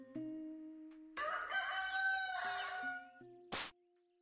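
A rooster crows a full cock-a-doodle-doo in a video game, loud and clear over electronic game music, followed by a short sharp burst of noise near the end.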